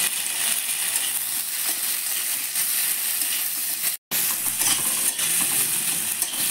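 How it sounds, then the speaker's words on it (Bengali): Steady close sizzle of hot oil in a pan after a whole tomato goes in, a continuous bright hiss with a brief dropout midway, no voices. "এবার আমি একটা গোটা টমেটো দিয়ে দিচ্ছি এর মধ্যে।"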